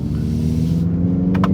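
Simulated exhaust note from the Bose speakers of a 2025 Hyundai Ioniq 5 N electric car, a loud low engine-like drone inside the cabin with brief crackles near the end.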